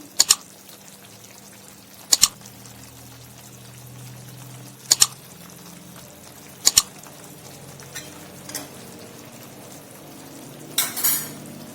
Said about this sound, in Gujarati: તો હવે આપણે જે પનીરના ટુકડા કરીને રાખ્યા છે તે અંદર એડ કરીશું.